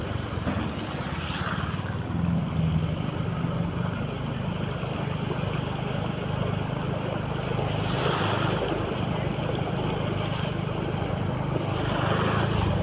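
A steady rush of churning water and wind noise, with a faint engine hum underneath, as a motorcycle pushes through deep flood water.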